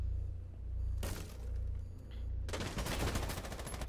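Rainbow Six Siege video game gunfire: a short burst of shots, then a sustained loud stream of rapid automatic fire over a low background hum.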